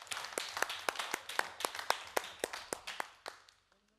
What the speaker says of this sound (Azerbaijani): Alqışlar Çingizə.